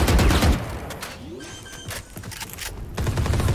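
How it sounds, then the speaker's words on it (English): A swarm grenade goes off in the video game Valorant, a burst of rapid gunfire-like crackles and booms, loud and close, mixed with other game effects and no talk. "Swarm grenade out."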